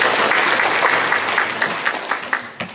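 Church congregation applauding to welcome a first-time visitor during a service, a steady patter of clapping that thins out toward the end into a few scattered claps.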